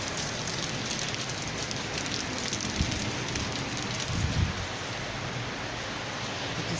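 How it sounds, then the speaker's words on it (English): Heavy rain pours down in Canada as a steady, dense hiss of drops drumming on surfaces, loud and unbroken from start to finish with no voices. "Look at the rain today. Okay, it's really pouring very hard."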